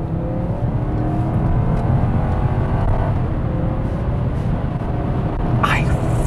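2001 Lexus GS 430 accelerating hard with a steady, loud engine roar and road noise from inside the cabin, holding for several seconds, and a voice exclaims near the end.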